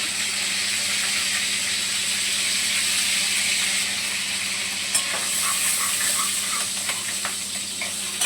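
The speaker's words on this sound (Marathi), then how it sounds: "आणि टमाटा चांगला परतून घेते" Chopped tomato and green chili sautéing in a hot pan, a continuous loud sizzle and hiss with a few scraping stirs, background fan noise, no voices.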